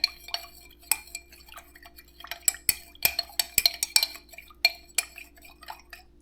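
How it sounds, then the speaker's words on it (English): A homemade tick repellent mixture with rubbing alcohol is stirred in a container, giving scattered light clinks and taps of a utensil against the sides, irregular and close, with no talking. "You're gonna add your rubbing alcohol like this. Okay. And you are gonna give it a good stir."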